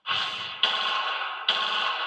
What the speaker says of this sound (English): ATF Special Agent in Charge John DeVito demonstrates firing a 9mm handgun